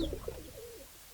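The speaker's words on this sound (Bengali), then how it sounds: "মাদি মাদি কবুতর মাদি কবুতর" Female pigeons coo softly at a farm, with a few brief, low, faint notes fading out quickly and no talk over them.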